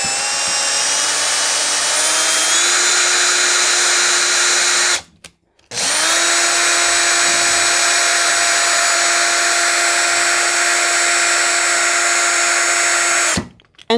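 A power drill drives a metal screw into a tight hole in 3D-printed plastic, whining loudly and steadily with a rising pitch, stopping briefly midway, then running again before cutting off.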